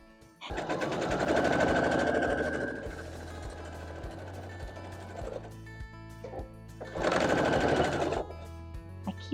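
Domestic sewing machine stitching quilt acorn blocks, two loud rapid bursts of mechanical needle chatter, one long run early and a shorter one near the end, separated by quieter handling sounds and clicks.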